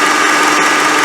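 A car engine idling with a loud, steady, high-pitched hum that stays constant throughout, the car suffering from power steering noise and fluid overflow.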